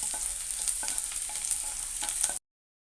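Garlic and ginger sautéing in hot oil, a close steady sizzle with a few spatula scrapes, ending abruptly in silence after about two and a half seconds.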